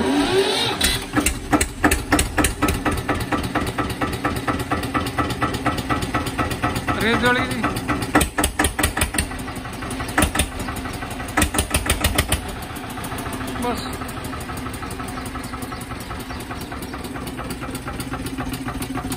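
A tractor engine idles with a steady, throbbing chug, close by, while people talk over it.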